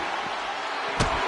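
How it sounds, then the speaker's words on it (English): Big boot from a wrestler slams an opponent to the mat in the WWE 2K25 video game, landing as one sharp thud over a steady, loud arena crowd roar. "big boot drives him to the floor"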